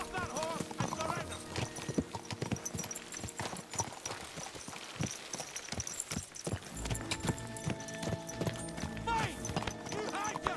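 A horse gallops in the medieval video game Kingdom Come: Deliverance 2, with rapid, rhythmic hoofbeats thudding continuously under a musical score and shouted character dialogue, with a brief whinny in the mix.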